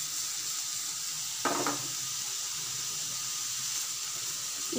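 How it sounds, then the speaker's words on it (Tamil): Onion and vegetables for veg hakka noodles fry in a hot pan with a steady, close hiss, broken once near the start by a brief clatter of stirring. "இது ஒரு 5 நிமிஷத்துக்கு நல்லா ஃப்ரை ஆகட்டும்."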